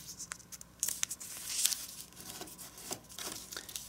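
Origami paper folded and creased by hand, a series of crisp rustles and crinkles with sharp scratchy bursts, quiet and close with no talk.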